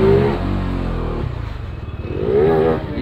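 A motorcycle engine revs up loudly nearby, drops into a rough, pulsing idle, then revs again in a rising and falling sweep.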